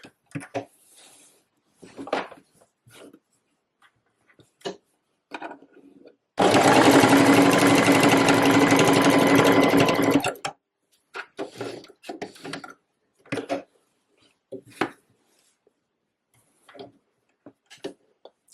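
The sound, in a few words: sewing machine stitching a waistcoat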